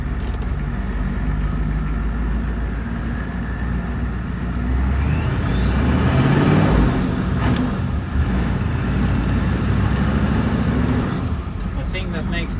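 A Squarebody Suburban with a turbo diesel and a manual four-speed rumbles along on a test drive. A steady loud engine drone and road noise swell in the middle as a turbo-like whistle rises and falls, and a voice speaks briefly over it.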